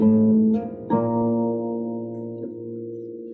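A single plucked pedal-harp string whose pitch jumps upward as a pedal is pushed down, the ringing tone shifting to a higher note, then shifting once more and sustaining as it slowly fades.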